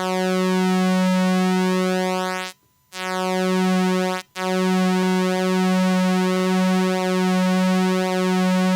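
A steady pulse-width-modulated tone from the Arturia SynthX V synthesizer, with rich, buzzy harmonics and a slowly shifting timbre, broken by two brief silent gaps.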